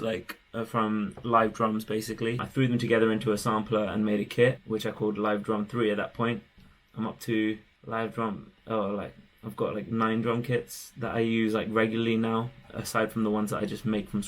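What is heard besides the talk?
No everyday noise stands out behind the speech.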